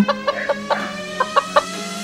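A chicken in an animated children's story clucks in a run of short, evenly spaced, fairly loud clucks over a steady low hum.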